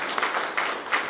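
A graduation ceremony audience applauds, giving a round of applause to Dr. Quesada: dense, steady clapping from a crowd at moderate distance, brief and even in level.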